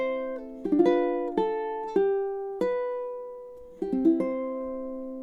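Ukulele plays a chord melody arrangement of Hi'ilawe in steady time, with plucked chords and melody notes ringing close and clear, alone, each strum decaying before the next.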